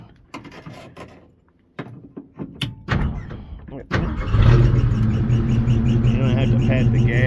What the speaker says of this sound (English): You don't have to pat the gas. I mean, she just fires right up.